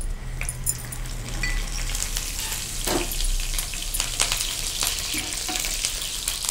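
Curry leaves, cumin and mustard seeds fry in hot oil, a steady close sizzle with scattered pops and crackles running throughout, plus occasional stirring clinks.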